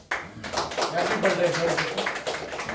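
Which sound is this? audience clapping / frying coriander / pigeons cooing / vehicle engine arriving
audience clapping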